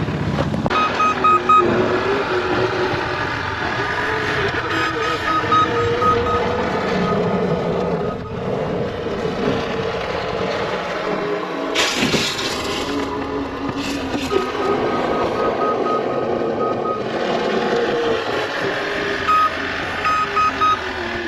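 Reversing beeps from a snow-plowing truck repeat steadily while its sander is loaded, sounding over a continuous loud engine rumble with no talking.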